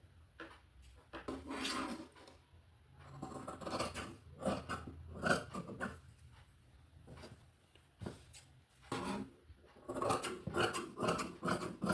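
Fabric being cut, the back panel of a garment snipped with scissors, giving a series of crisp intermittent snips and rustles that come in short bursts with pauses between them, up close and moderately loud, with no talking.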